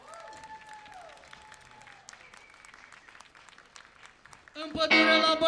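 Festival crowd at the Rose 'N' Wine Fest in Râșnov breaking into loud applause for a band, rising sharply near the end after a quieter stretch with a voice talking over faint background music.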